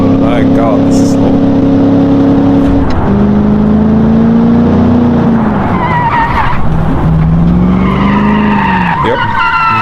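A slow 110-horsepower car in the BeamNG driving game drones loudly with a steady engine tone that dips and rises as it shifts and accelerates, with tire noise through the run.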